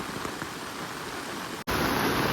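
Steady rain pours near a swollen, flooded river, a dense even hiss that cuts out for an instant and then resumes just as loud.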